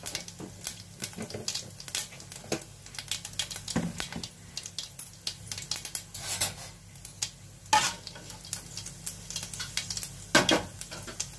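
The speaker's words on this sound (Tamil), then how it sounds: "கொஞ்சம் வெந்தயம், ஒரு பிஞ்ச் அளவுக்கு சீரகம், கொஞ்சமாக சோம்பு எல்லாம் சேர்த்து நல்லா பொரிஞ்சு வரட்டும்." Fenugreek, cumin and fennel seeds crackling in hot oil for paruppu urundai kuzhambu, giving faint scattered pops and sizzles with occasional sharper clinks of a spoon against the pan.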